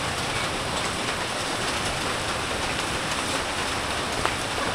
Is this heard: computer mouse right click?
no